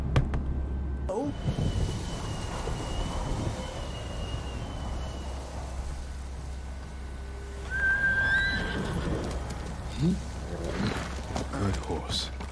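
A horse whinnies with a rising, whistling cry, standing out over a steady low rumble and background noise in the video game Ghost of Tsushima.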